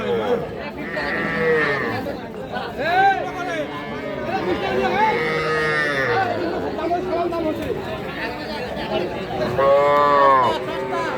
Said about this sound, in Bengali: ওই পাশে বেশ কিছু বাছুর দেখেন যে কতগুলা কিন্তু বাছুর আজকে হাটে উঠছে